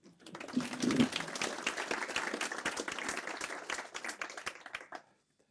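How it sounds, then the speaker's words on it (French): Audience applause at a live public session, a crisp burst of close clapping from a modest crowd that rises quickly, holds steady for about four seconds, then stops abruptly. "On peut l'applaudir."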